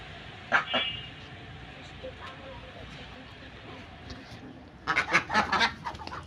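Domestic geese and ducks honk and quack near a backyard swimming pool, one honk early and then a dense burst of overlapping calls in the last second or so, with quiet talk between.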